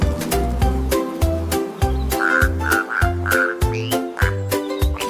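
Frogs croak in a steady rhythmic chorus of loud, regular pulses with a few higher chirps mixed in, heard clearly up close with no talking.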